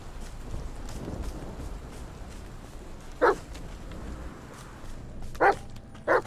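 A dog in the horror video game The Medium gives three short, sharp barks spaced a couple of seconds apart, standing out over a steady low ambient bed of game atmosphere.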